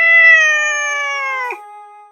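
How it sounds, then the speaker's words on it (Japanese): A single drawn-out cat meow, clear and close, holding steady before breaking off near the end, with no talking over it. "そう、猫ちゃんじゃ。"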